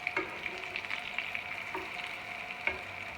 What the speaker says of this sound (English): So we're going to cook these until they're golden on each side.